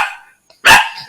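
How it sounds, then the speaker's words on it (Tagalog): A dog on the grounds of a large resort property lets out a single loud, sharp bark close by, preceded by a softer short yelp. "May mga aso dito kasi it's a big property, di ba?"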